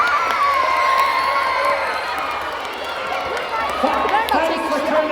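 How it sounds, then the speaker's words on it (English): A lively crowd at a science show cheers and shouts, with children's voices whooping and calling over a steady wash of noise. It reads more as cheering than as clear clapping. "give a round of applause for my second performer, Floppy the Pigeon, everyone."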